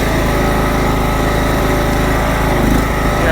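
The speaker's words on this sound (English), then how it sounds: "yeah, this mower's doing good." An old Craftsman lawn mower with a reconditioned engine runs steadily and loudly up close, a continuous buzzing drone with no talk over it.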